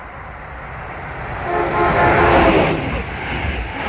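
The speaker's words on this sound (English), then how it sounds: "Amtrak 2263, Boston to Washington. Here he comes. Train approaching." Amtrak train 2263, Boston to Washington, approaches a Connecticut station platform, a broad rumble swelling steadily and peaking near the middle before easing slightly, loud and continuous, no talk.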